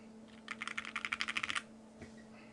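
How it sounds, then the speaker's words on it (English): Typing test on a custom-built Thera 75 mechanical keyboard: a rapid burst of about a dozen crisp, close keystrokes lasting around a second, then a couple of faint stray clicks over a steady low hum. "I'll finish this off with another typing test"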